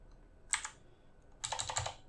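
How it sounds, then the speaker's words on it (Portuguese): Keys clack on a computer keyboard as a command is typed: a brief pair of taps, a pause, then a quicker run of keystrokes, close and fairly quiet. "Então se eu digitar aqui"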